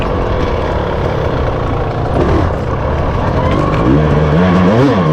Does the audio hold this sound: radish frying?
no